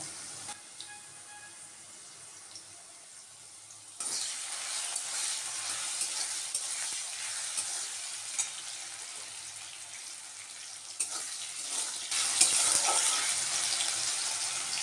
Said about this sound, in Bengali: আমি আলুটা একটু নুন দিয়ে একটু হলুদ দিয়ে আমি একটু ভেজে নেব